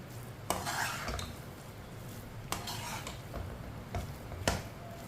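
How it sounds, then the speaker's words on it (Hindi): Semolina halwa being stirred in a pot, with a spoon scraping and clinking against the metal in a steady rhythm and three sharper knocks spaced apart, close and alone. "मिक्स कर लेंगे।"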